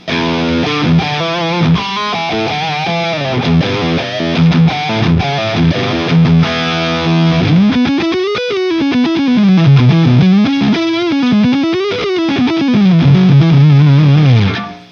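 A heavily distorted electric guitar with a boost pedal cranked up plays a loud riff, then shifts into sliding, bending lines that rise and fall.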